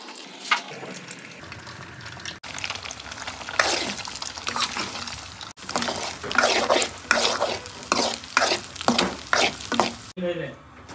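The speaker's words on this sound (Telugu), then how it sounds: "ఎగ్ని ఇందులో వేసి ఫ్రై చేసుకోవాలి" An egg fries in hot oil in a pan for egg Maggi noodles, crackling and sizzling loudly and close, with bursts of spatula scraping and stirring and a few brief cuts in the sound.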